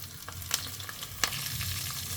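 Cumin seeds, black pepper and green chilies sizzle and crackle steadily in hot oil or ghee for katte pongali, with sharp pops and a brief stir or two over a continuous frying hiss.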